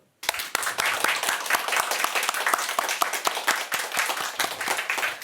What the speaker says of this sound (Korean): 감사와 영광의 박수.